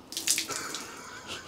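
Water pours and trickles out of a soaked Chevrolet Tahoe part in a brief, soft splashing gush close by, fading to a light dribble.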